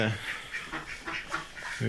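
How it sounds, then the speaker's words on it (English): Geese inside a dark farm building honk and cackle in repeated bursts, moderately near, with people talking over them. "These are some geese."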